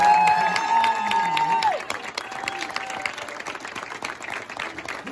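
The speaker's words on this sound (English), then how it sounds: "So one more big round of applause." An audience at a high school award ceremony applauds and cheers, a sustained held tone fading out early while steady clapping continues at moderate loudness.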